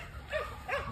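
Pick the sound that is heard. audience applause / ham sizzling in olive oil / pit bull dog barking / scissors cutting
pit bull dog barking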